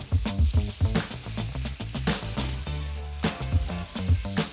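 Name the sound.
sauteing in pan, deglazing with lemon juice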